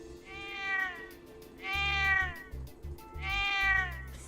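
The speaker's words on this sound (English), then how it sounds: "Oh, look at the kitty, Lulu." Three clear, evenly spaced meows from a cat in the video game Trails of Cold Steel II, with a low rumble between the calls.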